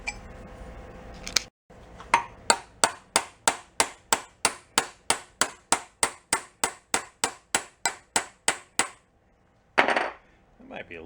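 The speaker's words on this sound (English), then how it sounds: "I think we hit it with a hammer." Rapid run of about twenty hammer blows on metal, struck evenly at roughly three per second, loud and close in a fabrication shop building an amphibious vehicle's brakes, exhaust and shifter, with a short burst of grinding-like noise near the end.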